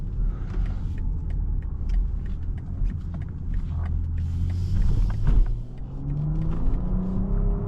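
A 2025 BMW X5 xDrive50e M Sport SUV drives along with a low engine rumble and tyre roar heard from inside the cabin, rising briefly as it accelerates, with a few small clicks and taps.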